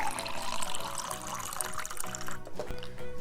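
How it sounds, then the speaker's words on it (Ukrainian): Water pours steadily from a kettle into a cup of herbal tea with a full, bubbling splash, the flow thinning and trickling briefly before continuing. "наливаємо водичку з чайника"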